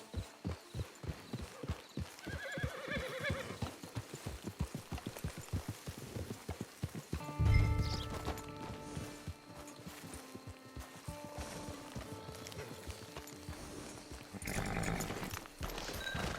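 In the video game Red Dead Online, steady clip-clop of horse hooves trotting over a hard surface, with a brief horse snort or whinny partway through and a faint rainy hiss behind.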